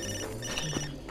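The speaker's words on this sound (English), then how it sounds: "you pick up your buddy's phone and then you ignore him" A phone rings in the video game Far Cry 2, a short electronic ringtone burst heard fairly faintly on its own, without speech.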